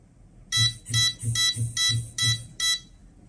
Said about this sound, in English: When the time's up, and the transmitter will make beep sounds, and it will also vibrate.